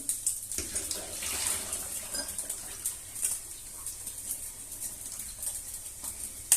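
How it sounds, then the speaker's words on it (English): Cooked coquillettes pasta drained through a colander: a faint, steady splash and trickle of water with small clinks, heard up close and without talking. "Take your pasta, use a drainer and drain them."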